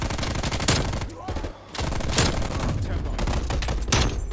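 A Stoner machine gun in Call of Duty: Black Ops Cold War fires sustained, rapid, dense automatic bursts that are loud and close, with a brief pause partway through.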